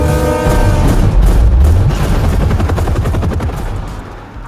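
A gun-salute sound effect: a loud, continuous burst of rapid gunfire that rumbles heavily and slowly fades over a few seconds, with no voices.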